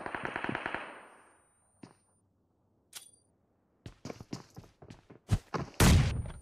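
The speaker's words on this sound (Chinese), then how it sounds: "拿 MG3 去补一下伤害。" An MG3 machine gun fires in a shooting video game: a sharp opening burst that rings out, then a pause with a few isolated cracks, and finally a cluster of loud shots and impacts close by.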